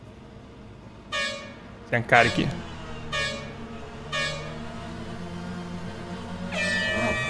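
Race start signal beeps in the rFactor 2 racing game with a BTCC touring car on the grid, four evenly spaced tones a second apart and then a longer final tone over engine idle, with someone talking in between.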